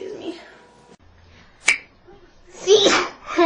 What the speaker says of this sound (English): Oh god, let me sneeze.